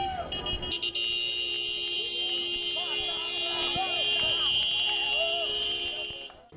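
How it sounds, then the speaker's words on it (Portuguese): Car horns blare in a continuous, overlapping drone through the streets of Campo Grande, Brazil, during a celebration of a mayoral runoff election win, steady and fairly loud throughout. "teve buzinaço pelas ruas."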